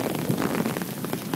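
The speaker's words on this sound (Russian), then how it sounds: "Все, я хочу прогуляться в дождике" Steady rain falling outdoors on a university campus, a soft, even hiss of drops pattering continuously at moderate, faint level.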